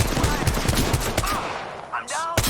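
Rapid gunfire in an Apex Legends fight, a dense stream of close shots that thins out, with faint voices and a brief electronic tone near the end.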